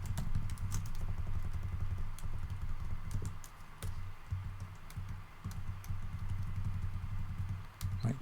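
Close, quick typing on a computer keyboard during programming work, a dense run of clicking keystrokes over a constant low hum, with no talk.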